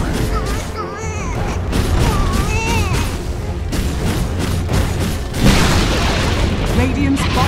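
A defensive tower is destroyed in a Dota 2 match, heard as a heavy boom with crashing impacts among ongoing battle effects, partly under an announcer's voice and other game sounds, with a louder burst near the end.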